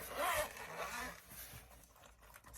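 A makeup case zipped shut up close, a short quick run of zipper teeth rasping then softer scraping as the case is handled, fairly quiet with no talking.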